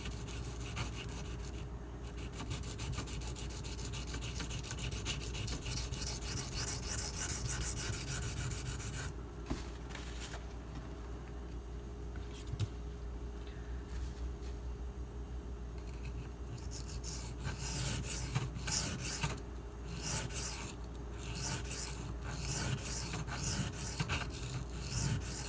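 Steady rubbing and scraping of a Spyderco Lil Native knife blade on a sharpening stone while the burr is taken off, a continuous close abrasive sound with brief pauses between strokes.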